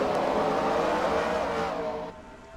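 Racing trucks on the Phoenix oval roar together at a race start in a truck series, a dense, loud engine drone that holds steady and then eases slightly as the pack pulls away.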